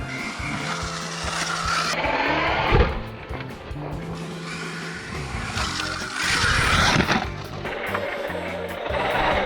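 Motor whine of an ARRMA Mojave RC truck revving and skidding over a dirt BMX track, rising and falling in bursts with scraping tire noise throughout.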